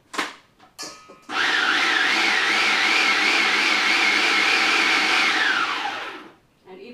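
A small food processor chops mushrooms for vegan veggie burgers in one loud, steady whirring run of about five seconds with a wobbling motor pitch, preceded by a few clatters of the lid and bowl.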